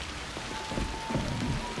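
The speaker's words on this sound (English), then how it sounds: "there was a lot less rain in this game." Steady rain pours across an Assassin's Creed Shadows game world, a dense continuous hiss of drops on surfaces at an even level, with faint low rumbles underneath and no voices.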